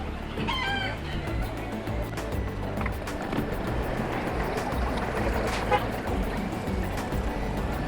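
A rooster crows early on, then chickens cluck faintly outdoors in Key West against a constant rumble and hum, the birds somewhat distant.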